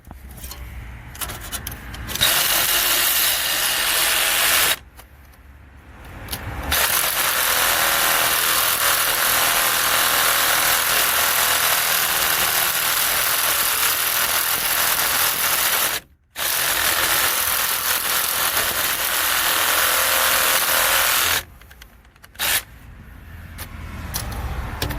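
A Milwaukee M12 Fuel brushless hacksaw cuts through a bolt with a loud, continuous buzzing rasp, running in long sustained stretches broken by a few brief pauses, close up with no talking.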